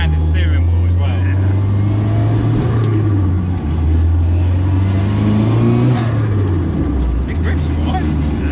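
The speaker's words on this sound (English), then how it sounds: "Yeah, it's very rattly. You can tell it's an old Ford." Old Ford Escort MK2 fitted with a 2.3 EcoBoost engine from a Focus RS, driving with a loud, steady engine drone that rises and falls in pitch, with people talking over it.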